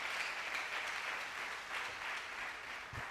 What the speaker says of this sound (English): Can we give him a round of applause once more?